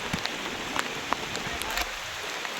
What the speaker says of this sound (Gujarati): એવો વરસાદ આવે છે.